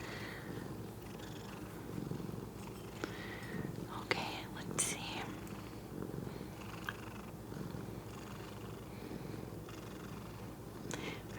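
A steady, low rumbling purr from a nearby cat runs throughout, with soft scattered rustles and faint ticks over it.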